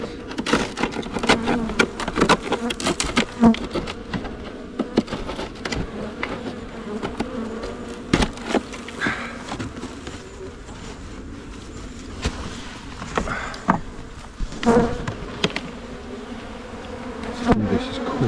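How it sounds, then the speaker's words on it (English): Honey bees buzz around an opened hive in winter, giving a low, steady drone broken by scattered close fly-bys and small clicks and knocks, with no voices. "Bees coming to say hello."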